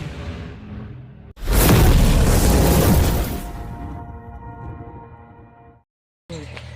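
A sutli firecracker bomb set inside a bottle goes off in one sudden, loud blast at night, a roaring burst lasting about two seconds that fades into a ringing rumble before silence.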